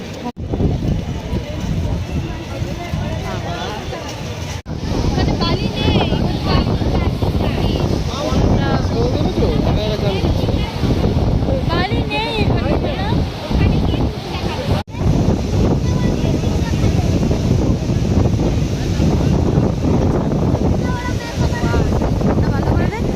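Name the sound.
strong wind at the beach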